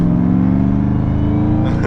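Dodge Hellcat Charger with cold drag radial tires engine roaring loudly and continuously, a deep steady rumble that holds for about two seconds and then shifts near the end.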